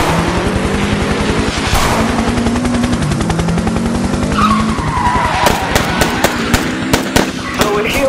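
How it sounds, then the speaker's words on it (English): Tyres screech and engines roar through a high-speed car chase in a video game, with dense rapid gunfire bursts and sharp cracks piling up in the second half, loud and continuous throughout. "The Bloods in a high-speed chase, chasing this other guy in another car."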